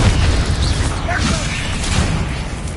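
A Confringo spell explosion in the video game Hogwarts Legacy booms loudly and continuously, low-heavy blasts and crackling bursts filling the whole moment with sustained rumble.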